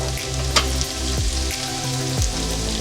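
Spices sizzling and frying in hot oil for Delhi-style Chicken Changezi, a steady close crackle with occasional stirring scrapes and a few louder pops, no voices.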